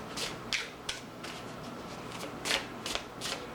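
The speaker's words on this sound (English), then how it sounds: "I'll give it a few more shuffles." A deck of cards being shuffled by hand during a tarot reading, with soft riffling and a handful of sharper flicks and snaps scattered unevenly through a quiet room.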